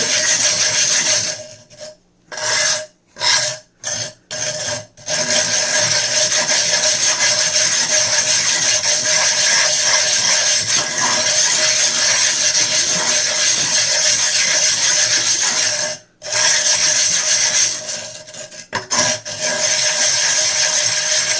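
A diamond stone from an Edge Pro Matrix set is rubbed over plywood to dress it, producing a continuous loud rasping scrape with a few short pauses near the start and one later break.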